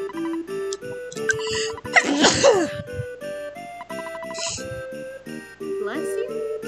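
A single sharp sneeze bursts out over soft, tinkling game music from an Earthbound stream, with a brief noisy flare in the middle of the clip.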